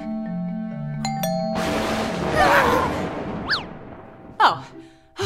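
A two-tone doorbell chime rings clearly at the start of an animated Goldilocks children's story, followed by rustling noise and cartoonish swooping sound effects.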